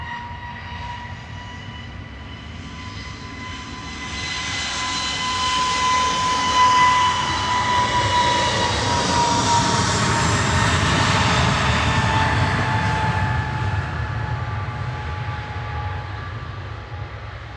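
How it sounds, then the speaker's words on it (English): An EasyJet jet airliner departs Manchester Airport, its engine roar swelling from a distant whine to a loud, broad rush with a steady tonal whine, then slowly fading as it climbs away. "EasyJet to Naples departing now, flight"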